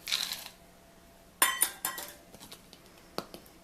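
Half a cup of chopped walnuts spills into a glass jar with a brief rattling pour, then a scatter of light clicks and clinks as the pieces settle, close and fairly quiet.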